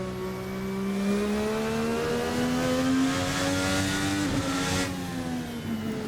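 Airy, throaty engine of a VRC Formula NA 2018 race car revving up close, a loud sustained whine rising steadily in pitch with a short dip near the end, with no voices.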